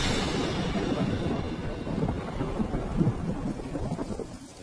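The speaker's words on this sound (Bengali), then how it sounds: "বৃষ্টি তো দেখছি থামবার নাম করছে না মিটু" Heavy monsoon rain pours steadily in a cartoon scene while thunder rumbles low and continuous, the whole downpour fairly soft and without any voices.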